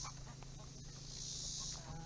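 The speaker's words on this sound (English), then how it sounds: "Chickens, quackers." Faint clucks and calls of chickens and ducks on a homestead come from a little distance over a low, steady background hum.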